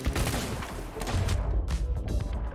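Ship cannons in the pirate game Sea of Thieves fire in a dense, loud barrage of booms and blasts with rumbling low end, one shot crowding the next, with no talk.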